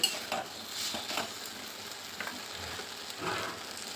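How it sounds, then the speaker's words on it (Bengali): Cumin paste and spices stir-fried in a pan, a soft steady sizzle with scattered scraping strokes of a spoon, close and fairly quiet, with no talk. "জিরে বাটা দেওয়ার পরে আবার একটু ভালোভাবে কষিয়ে নিচ্ছি, কাঁচা গন্ধ যাওয়া পর্যন্ত একটু কষিয়ে নেব।"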